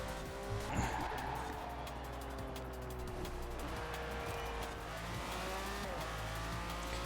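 A Porsche in Forza Horizon 4 racing along, a steady loud engine drone with shifting revs and occasional tyre squeal, lasting throughout at close range.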